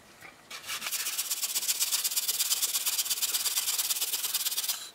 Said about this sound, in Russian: половину яблока натрем в этот пастернак. Уже именно на этой терке